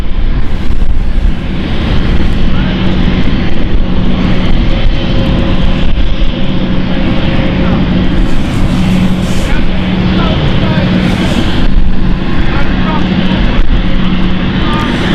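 Embraer jet airliner engines rumble and roar steadily at London City Airport, loud and continuous at close range, with radio chatter and voices mixed in.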